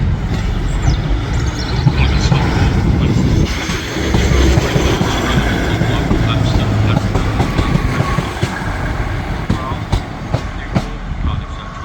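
Transport for Wales train, one of the operator's new units, arriving along the track at Manchester Piccadilly, a steady close rumble of wheels and engine with faint clatter, continuous and fairly loud throughout.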